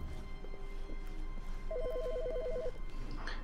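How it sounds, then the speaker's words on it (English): An electronic telephone rings with a rapid warbling trill inside The Stanley Parable game, one burst of about a second, clear over a faint hum of background noise. "Wait, there's a phone."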